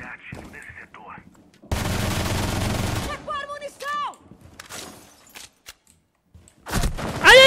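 Vector submachine gun fire in Rainbow Six Siege comes as a loud sustained automatic burst, followed by shorter game effects, clicks and another burst at the end, with no talk over it.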